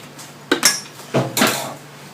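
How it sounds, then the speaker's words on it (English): Roti flatbread dough ingredients stirred in a bowl with a utensil, giving two close bursts of scraping and clinking against the bowl. "Give that a stir."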